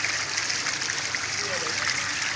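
Water rushing under pressure from a burst water pipeline, a steady broadband hiss and splash heard close and continuous, with a voice faintly present underneath.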